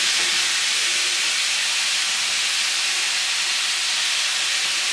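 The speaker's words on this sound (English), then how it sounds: "we are going to stir fry this for 3 to 4 minutes" Chicken stir-fries in hot oil for spicy Thai basil chicken (pad krapow gai), a loud, constant hissing sizzle with no pauses and no talking.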